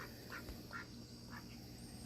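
Ducks in a backyard garden duck pen give several faint quacks at a distance, spread across a steady hiss of outdoor background noise.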